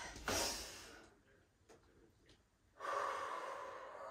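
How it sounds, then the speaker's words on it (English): A deep breath during prenatal Pilates, a close, airy rush at the start, then a quiet gap with faint ticks and a longer, steady breathy sound at the end. "we're going to take a nice deep inhale with the arms"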